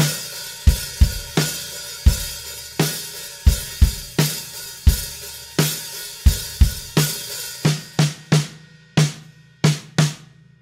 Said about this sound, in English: We're gonna do three bars of the beat into that fill.